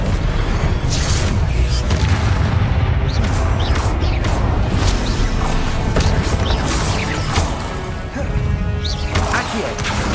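Confringo and Incendio spell blasts in Hogwarts Legacy combat, a dense continuous barrage of loud crashing impacts, whooshes and booms with no pause throughout.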